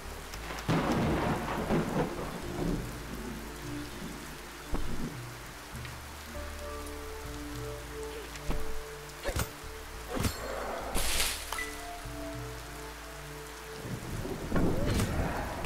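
Magical thunderstorm conjured in Rogue Heroes: Ruins of Tasos, with constant heavy rain and repeated thunder claps and deep rumbles rolling in over about fifteen seconds, one especially sharp crack near the end, and no voices.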